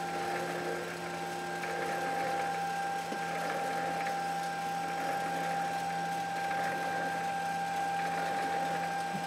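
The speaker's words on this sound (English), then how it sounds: "So we'll proceed on to machine it." Light metal cut on a machine tool while building a Stuart beam engine, a steady, faint mechanical whine with a constant hum, unbroken and moderately close.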